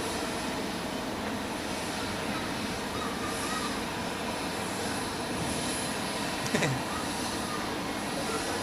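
An airliner takes off at Zurich Airport, heard from a spotting position as a steady broad jet engine roar that holds loud and unbroken throughout, with no talk over it.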